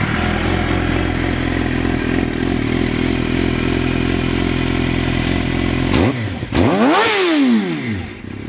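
A 2008 Suzuki GSX-R600 sport bike runs loud and close at a steady idle, then revs sharply with rising and falling engine pitch near the end.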